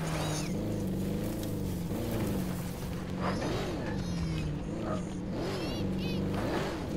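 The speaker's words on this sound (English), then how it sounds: "it's like drifting a car" A car in Call of Duty Black Ops 4 Blackout drifts, its engine droning and repeatedly swooping up and down in pitch through the slides, continuous and fairly loud.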